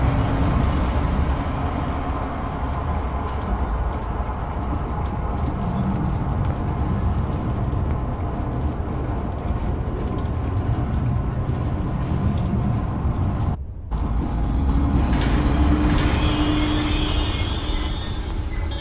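A steady, continuous rumble of a moving train in a zoo video game with a mechanical drone, briefly cutting out before resuming with brighter whirring tones.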